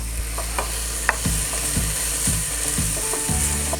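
Diced orange pepper and onions are being stirred in a frying pan for sloppy joes, with repeated scraping strokes of the utensil over a constant loud sizzle.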